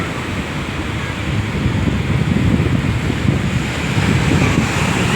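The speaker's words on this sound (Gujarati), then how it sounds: "એવા એકદમના મોજા આવતા હતા ને" Sea waves wash onto the shore at Porbandar, a loud, continuous surging roar with heavy wind buffeting the microphone, swelling slightly through the middle with no voices.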